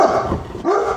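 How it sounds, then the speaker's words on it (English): A dog named Ziggy barks, two quick close barks about half a second apart, loud and clear with no talk over them. "I think he's barking back here."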